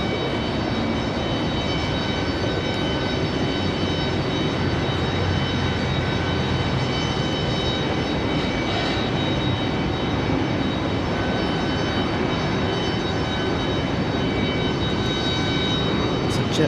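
JetBlue airliner taxiing at Raleigh-Durham International Airport, a steady broadband engine roar with faint whine holding at an even level throughout, moderately near and unbroken.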